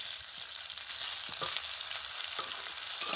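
Mashed boiled potatoes with ginger frying in a pan make a continuous bright hiss of sizzling oil, with faint stirring taps underneath, steady and near, no voices.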